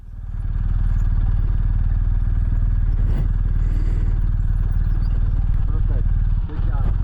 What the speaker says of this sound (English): This time we're doing a trail stop in the downhill and then letting go and letting it engine brake.